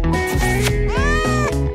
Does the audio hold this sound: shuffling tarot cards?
no